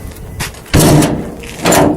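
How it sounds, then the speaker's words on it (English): A bus door slides and closes, one solid thud with a rattle, followed by a second closing sound, close by over a low engine idle. "Close the door."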